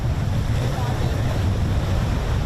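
Pacific Ocean waves pounding the central coast in winter, a loud continuous rumbling surf with heavy low wind buffeting on the microphone.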